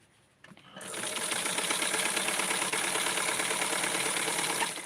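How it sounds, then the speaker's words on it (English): A sewing machine stitches a small dress for an 8-inch Blythe, Skipper or Penny Bright doll, starting up within the first second and then running in a steady, fast, close whir to the end. "I'm sewing a little bit over the edge"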